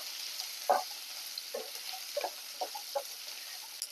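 Shallots, four dried red chillies and five or six garlic cloves sautéing in a pan, a faint continuous sizzle broken by several short utensil knocks and scrapes, close by and without talk.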